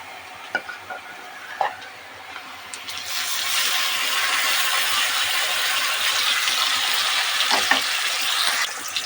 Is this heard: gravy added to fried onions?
yes